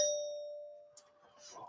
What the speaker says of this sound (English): I have a bell, which I will ding when your time is up.